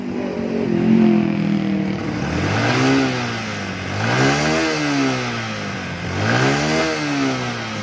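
A Kawasaki Bison motorcycle with a cut-down modified exhaust is revved in three rising and falling swells from a steady idle, loud and close with a raspy, throaty engine note.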